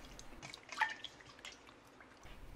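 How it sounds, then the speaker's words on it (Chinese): Fish tail pieces from a bighead carp are rinsed in water, giving soft, sparse drips and light splashes close by, quiet and brief with no talking. "再把它清洗干净。"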